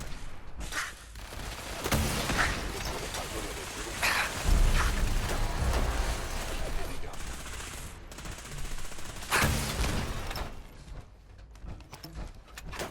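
Bursts of gunfire in the video game Fallout 4, with rapid automatic volleys and sharp single shots in several loud clusters over steady game ambience.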